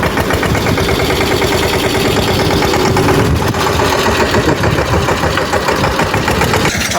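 A tractor engine idles on a farm, a loud, close, steady diesel chug with rapid regular knocking that holds unchanged throughout, with no voices.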